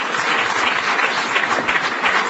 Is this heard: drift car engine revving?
no